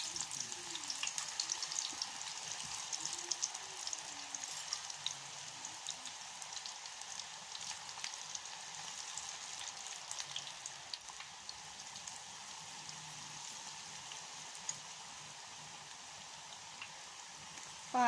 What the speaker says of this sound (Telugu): ఆయిల్ హీట్ అయ్యాక ఈ పకోడీ అనేది ఫ్రై చేసుకుందాం